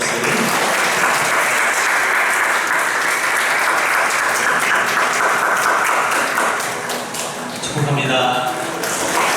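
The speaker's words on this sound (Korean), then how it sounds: "다시 한번 축복의 박수." A church congregation gives a round of applause as a blessing after a prayer at a worship service. The clapping is dense, loud and sustained for several seconds, dips briefly near the end, and voices come in over its tail.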